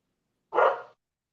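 One dog gives a single short, fairly loud bark on its own, surrounded by silence.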